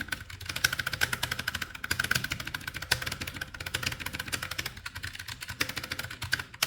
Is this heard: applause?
no